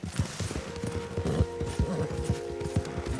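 Horse hooves in Red Dead Redemption 2 clip-clop at a steady trot, a close, regular rhythm of hollow thuds over faint game ambience.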